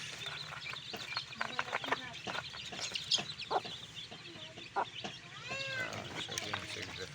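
Backyard chickens cluck and call repeatedly at close range as they feed on termites, a steady flock chatter with occasional sharper squawks over a faint hum.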